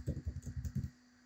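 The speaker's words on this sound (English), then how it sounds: "why I'm typing everything wrong today" Fast, close typing on a computer keyboard during Android app coding, a quick burst of about a dozen key clicks that stops abruptly into quiet.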